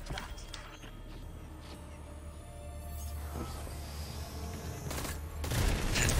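Gunfire from a weapon in Destiny, a quiet run of faint shots building into a louder burst at the end, with game ambience underneath and no talk.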